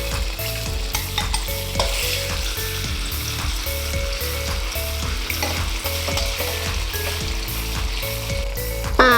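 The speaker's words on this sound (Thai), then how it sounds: "เชฟจ๋าก็จะเอาเต้าหู้ อันนี้ลงกระทะค่ะ ทอดเต้าหู้ก่อนให้เต้าหู้มันเซตตัวค่ะ" Steady, dense sizzling of tofu frying in hot oil, with occasional clinks and scrapes of a utensil stirring in the pan.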